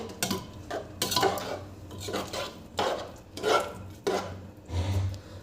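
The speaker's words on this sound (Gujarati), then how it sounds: "હવે આપણે આને હલાવી લેશું અને આનું ઢાંકણું બંધ કરી દઈશું" Cabbage and potato curry is stirred in a pressure cooker with a metal spoon, then the lid goes on: close, repeated scraping and clattering bursts of utensil against pot, with no talking.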